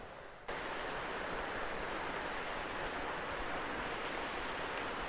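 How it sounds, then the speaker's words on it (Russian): Constant rushing water roars steadily, a dense broadband wash with no breaks, like a waterfall heard up close, as it streams down a rock face in the Alps near Koča pod Golico, Slovenia. "Встречаем еще один водопад. Он очень красиво стекает вниз по скале."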